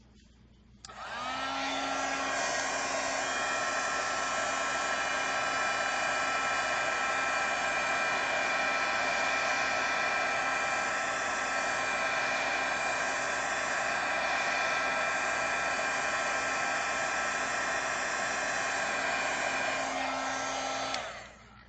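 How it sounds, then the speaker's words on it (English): Steady, loud whirring roar of a heat tool blowing over glitter nail polish swatches, switching on near the start and running continuously for about twenty seconds before cutting off, with no talking. "Keep forgetting to heat dry them."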